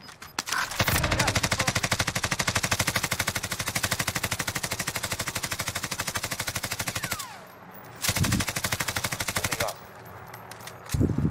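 Automatic gunfire in the video game Warzone: a long, loud, sustained burst of rapid shots, a short pause, then a second shorter burst and a few trailing shots.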